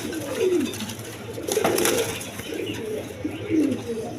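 A pair of racing pigeons, a black hen and a cock, coo in low rolling phrases three times across the stretch, close by and fairly clear, with no talking over them.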